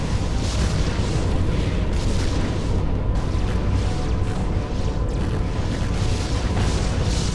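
A massive rumbling blast from space combat in the strategy game Sword of the Stars, a sustained roaring explosion that stays loud and broadband for several seconds with no talking.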